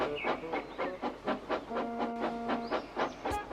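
Veronica, a cartoon steam engine, puffs away in quick rhythmic chuffs, a dozen or so evenly spaced bursts with a brief whistle-like tone midway, close and clear with no talking.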